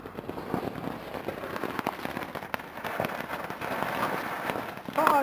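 Fireworks at Dofok crackle and pop in rapid irregular bursts at a moderate distance, a steady scatter of small bangs running for several seconds before a sharper sound at the end.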